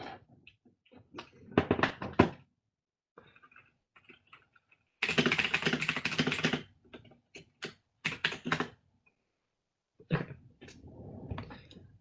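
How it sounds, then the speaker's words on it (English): Typing on a light-up mechanical computer keyboard: bursts of sharp clicky keystrokes in irregular clusters, close and fairly quiet, separated by silent pauses, with one longer continuous run of rapid keys in the middle. "That's my clickety clackety keyboard."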